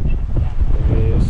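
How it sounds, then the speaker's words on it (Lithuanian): Wind buffets the microphone at a forest campsite, a loud, continuous low rumble with gusty fluctuations and no distinct other sounds. "Vėjas yra, bet..."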